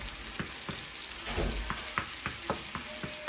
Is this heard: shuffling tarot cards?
no